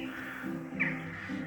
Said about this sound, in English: it was a mother crow and her children, and they stopped eating berries and flew away, swaying caw, caw, caw